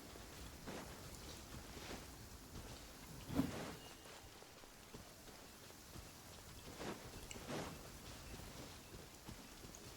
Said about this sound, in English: It was already raining.